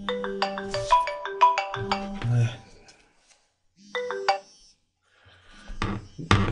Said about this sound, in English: This was the phone.